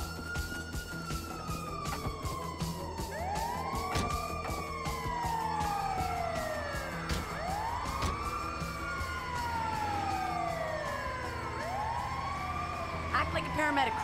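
An ambulance siren wails during the Bureau Raid heist mission in GTA 5. The rising and falling wail is loud and repeats steadily, with overlapping cycles layered over game noise and other sounds.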